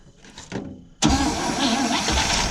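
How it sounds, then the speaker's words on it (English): Forgotten 1956 Pontiac engine, sitting for 40 years, cranking briefly then catching abruptly into a loud, close, rough running roar that holds steady. "Go ahead and crank it up for me."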